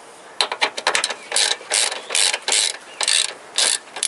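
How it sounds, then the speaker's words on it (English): A socket ratchet loosens the battery hold-down bolts on a Toyota Corolla, a series of quick clicking pawl bursts in uneven strokes, close and crisp with no talking. "you need the socket, and you open this bolts over in here"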